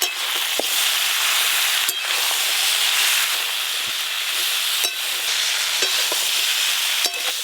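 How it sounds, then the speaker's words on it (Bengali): Spiced shankar (stingray) fish curry with small brinjals and jackfruit seeds frying in oil in a pan, a continuous close sizzle broken by several sharp scraping stirs of a spatula. "হ্যাঁ, চাপা খুলে একবার নেড়ে নেব।"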